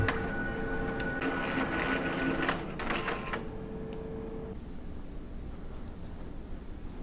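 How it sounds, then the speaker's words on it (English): An Entrust Datacard CR805-series card printer whirs and hums mechanically as it pulls an adhesive cleaning card through, with a few clicks and motor pitch changes, then settles into a quieter steady running noise. "The printer will now pull the adhesive card in and run it through the length of the printer"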